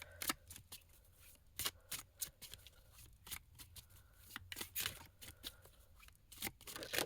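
Oracle cards being shuffled and drawn by hand, a quiet run of crisp riffling flicks and soft slaps in irregular bursts, close and alone with no talking.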